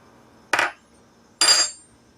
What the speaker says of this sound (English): Let me crack this egg open and throw it into the wet bowl here.